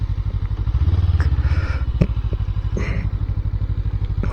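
A small, economical UK motorcycle engine thrums at a steady, fast rhythmic beat while riding, close and loud, with occasional clanks and thuds over the even running.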